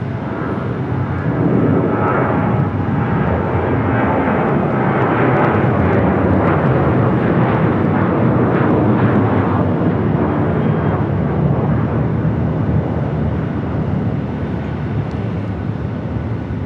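A departing Airbus airliner roars loudly and steadily at Phoenix Sky Harbor airport, a broad continuous jet rumble that holds for the whole stretch with no voices over it.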